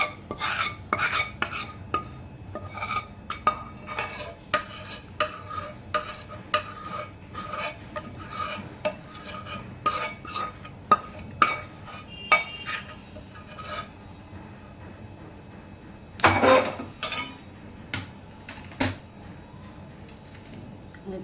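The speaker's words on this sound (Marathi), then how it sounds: "चमच्याने पूर्ण मिक्स करून घेऊया" A spoon works jaggery syrup into a flour mix for methi ladoo, giving irregular rasping and scraping strokes against the bowl, close and fairly quiet, with a sharper clatter near the end.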